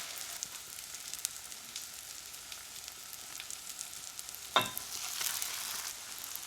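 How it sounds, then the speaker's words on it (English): Bread slices for keto French toast sizzle softly in melted butter in a pan, a quiet steady crackle that briefly flares louder partway through. "We're going to go ahead and fry both sides up so it gets a nice and brown crispy texture, just like French toast should be."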